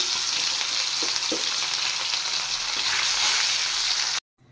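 More fish frying in a pan: a loud, continuous close-up sizzle with a couple of soft knocks from turning the pieces, cutting off abruptly at the end.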